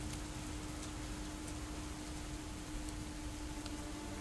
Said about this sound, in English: As the rain falls all around, I trudge through the mud and frost,